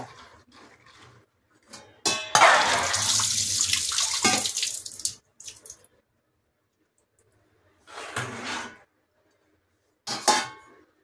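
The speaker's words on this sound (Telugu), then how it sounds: "మళ్ళీ మంచినీళ్ళు పోసి పెట్టాలి" Tap water runs in bursts over soaked chickpeas in a vessel, first a long splashing pour, then two shorter gushes separated by silence.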